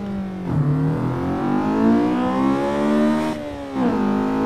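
A car in the Assetto Corsa racing game accelerates hard, its engine note climbing steadily through the revs with a brief dip at a gear change, loud and continuous throughout.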